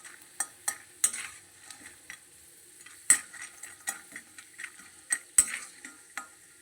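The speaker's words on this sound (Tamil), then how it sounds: "சிம்மிலே வந்து இந்த அளவுக்கு வந்து நம்ம வேர்க்கடலையை வந்து வறுத்து எடுத்துடலாம்." Peanuts roast in a pan as a spoon stirs them, giving sparse, sharp scraping clicks and rattles at irregular intervals against a quiet background with no talk.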